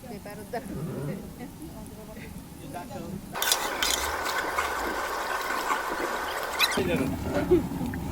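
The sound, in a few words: stirring beef biryani rice with raisins in a large pot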